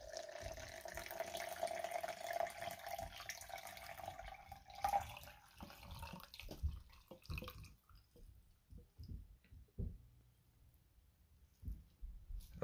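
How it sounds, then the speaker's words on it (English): Water poured from a tap into a shaker with GFUEL drink mix, a steady close trickle and splash that thins into scattered drips and clicks, then quiet. "Pour in the water now."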